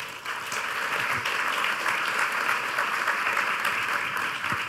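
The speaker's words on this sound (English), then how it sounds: "Thank you to the panelists. A round of applause." Audience applause for panelists at the close of a technology and conflict analysis panel session, a steady dense wash of clapping from a room full of people lasting throughout.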